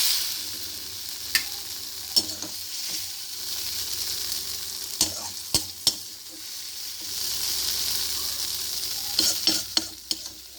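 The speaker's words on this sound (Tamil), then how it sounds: "இப்போது தக்காளியும் புளியும் நல்லா வதங்கிடுச்சு" Tomato and tamarind sauté in a kadai for brinjal pachadi, a steady soft sizzle with occasional sharp spoon scrapes and clinks against the pan, no voices.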